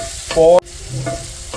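Tomatoes frying in a pan for a Kerala-style pork biryani, heard as a close sizzle with brief squeaky scraping strokes as the mixture is stirred.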